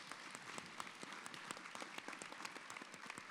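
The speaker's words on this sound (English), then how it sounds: "if you may join me in another round of applause for our tremendous co-curators" Faint, distant audience applause at an art exhibition event, a quiet even patter of many hands clapping with a few sharper individual claps.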